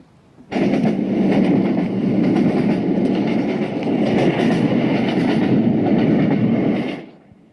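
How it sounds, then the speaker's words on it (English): A train ride through the Scottish Highlands, steady rumbling of railroad cars with rhythmic clickety-clack from the wheels, loud and continuous from inside the carriage, fading out at the end. "Join me on a train ride through the Scottish Highlands or wherever you want to take that train."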